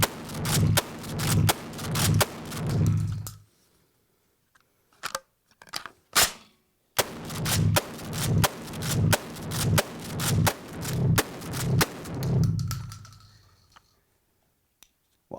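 A Kel-Tec KSG compact 12-gauge pump shotgun fires 2 3/4-inch buckshot in two rapid strings of loud, evenly spaced blasts, split by a pause filled with a few mechanical clacks as the magazine is switched.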